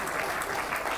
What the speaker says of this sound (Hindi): एक बार इसके लिए भी ताली बजाओ